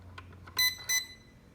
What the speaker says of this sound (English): At that point you should hear a couple of beeps